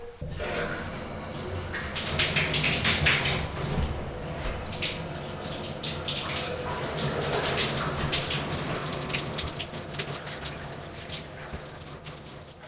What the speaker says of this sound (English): So I'm going to rinse the surface down and then wash it.